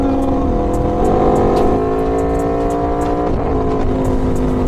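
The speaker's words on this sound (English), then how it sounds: "the sound of this V4 sounds oh so good" An Aprilia Tuono V4 motorcycle fitted with an LV Corsa carbon exhaust, its engine holding a loud, steady droning note with slight shifts in pitch, heard up close over wind noise.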